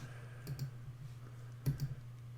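Two quick pairs of soft computer mouse clicks on a Save button, close and faint over a steady low electrical hum, with no talking.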